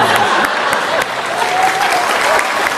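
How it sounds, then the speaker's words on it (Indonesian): Studio audience applause at the Mata Najwa talk show's Merayakan Indonesia broadcast, a dense, loud, continuous clapping that fills the whole stretch without letting up. "Sekali lagi tepuk tangan, luar biasa."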